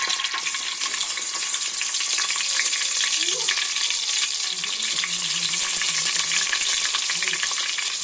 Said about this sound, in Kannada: ಎಣ್ಣೆ ಕಾದೈತ್ರಿ. ಈಗ ಈರುಳ್ಳಿ ಹಾಕ್ತೀನಿ ರೀ.